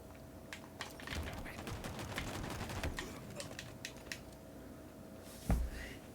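Rapid pistol fire in the video game Halo Infinite, a string of sharp, quick shots in bursts over a low background rumble, with one louder close crack near the end.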